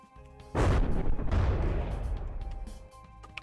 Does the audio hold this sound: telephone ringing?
no